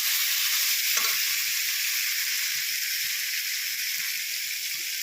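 Potatoes and beans sautéing with spices in a pan give a loud, even sizzling hiss throughout, with only faint soft stirring knocks underneath and no talking.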